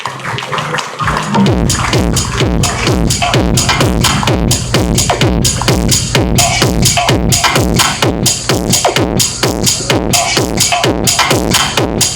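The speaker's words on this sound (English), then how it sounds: "Let's give a big round of applause." A dense audience at a Rotary charter night celebration claps loud and fast, the applause starting abruptly after a brief quiet moment and carrying on steadily for about eleven seconds.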